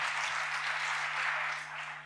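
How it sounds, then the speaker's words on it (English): Sustained audience applause at a technology conference, a dense steady wash of many hands clapping together for about two seconds, fading slightly toward the end, with no talking over it. "How about a big round of applause for Willie, everybody?"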